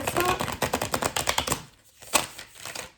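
A Liber Florum tarot deck with matte, slick cardstock and green-edged cards is shuffled and bridged by hand close up. Rapid crisp riffling flutters for about a second and a half, then gives way to a few softer taps and shuffles.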